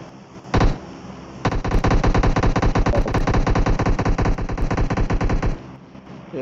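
Sustained automatic gunfire in the PUBG Mobile shooter game: a brief shot near the start, then a dense, loud, rapid burst of rounds lasting about four seconds before stopping.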